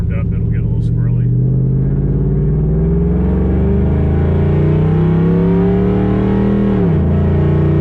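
Camaro SS accelerating at around half throttle heard from inside the cabin, a loud deep engine drone whose pitch climbs steadily before easing near the end, with a voice speaking briefly at the start.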